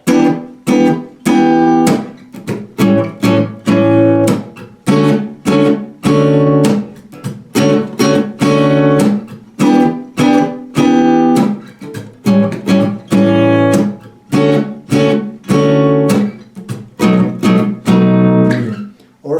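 Rhythmic guitar strumming through a repeating chord progression, loud and close, with strong regular down-and-up strokes and short gaps between strums.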